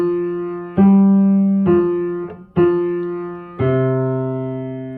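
Left hand alone on piano plays a slow line from Good King Wenceslas: four sustained low notes, each struck cleanly and left to ring, close and clear with no talking.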